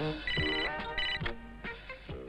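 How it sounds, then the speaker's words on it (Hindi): A telephone rings in repeated short electronic bursts, fairly loud and close, with a brief pause between rings. "अरे हाँ स्टिल जैक्सन को फोन करता हूँ।"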